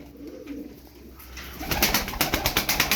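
Ankara Kırı pigeons coo in soft, repeated pulses that grow louder and more rhythmic toward the end, with some rustling and flutter nearby.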